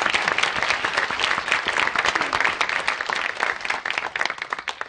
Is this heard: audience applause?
yes